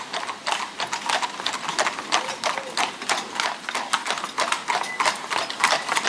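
Harness horses pull carriages in company, one behind another, and their hooves clip-clop in a steady, overlapping rhythm on a hard road, close and continuous throughout, with a faint mechanical rattle underneath.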